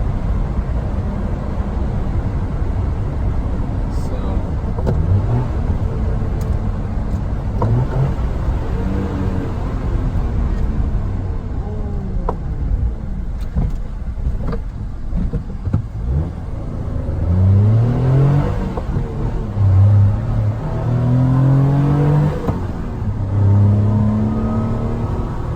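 A 1990 Mitsubishi MiniCab kei van cruising in fifth gear, its small engine giving a steady close drone with road rumble and a few rising and falling tones as speed shifts.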